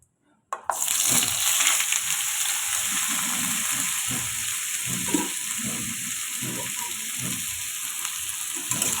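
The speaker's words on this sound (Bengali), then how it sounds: "এবার আমি কেটে রাখা লাউ আর কাঁচা লঙ্কাটা দিয়ে দেবো তেলের উপরে" After a moment of quiet, chopped bottle gourd and green chillies drop into hot oil and sizzle loudly and continuously, with occasional stirring sounds close up.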